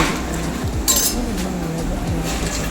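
A spoon stirs cooked ridge gourd (peerkangai) in a pot, giving soft scraping and occasional light clinks against the metal, with one brighter clatter midway over a steady low kitchen background.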